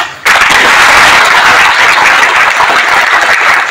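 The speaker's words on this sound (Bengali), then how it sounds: "ওনাদের জন্য একটা জুড়ে করতালি" Loud, dense applause from an audience welcoming faculty at a coaching centre launch in Patharkandi, bursting in abruptly and continuing as a steady roar of many hands close by.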